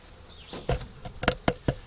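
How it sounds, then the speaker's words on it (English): Honey bees buzzing at an open hive, a steady hum punctuated by several close knocks and taps from handling the hive parts. "see all the bees working around inside"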